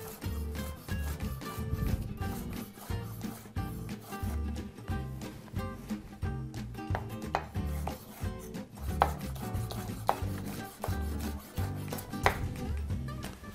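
Steady knife chops through bell peppers on a kitchen cutting board, a dense run of quick close taps with a few sharper strikes, all without any talking.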